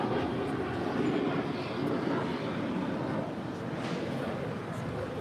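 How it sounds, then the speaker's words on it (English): A KLM Boeing 787-10 Dreamliner departing LAX for Amsterdam produces a steady, moderately distant jet rumble and hiss throughout, slightly easing toward the end. "we're looking at KLM Flight 602 departing to Amsterdam. It's a 2-year-old Boeing 787-10 Dreamliner."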